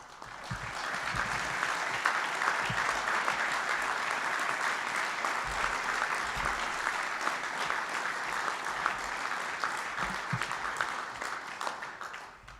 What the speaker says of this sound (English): would you all join me in a round of applause?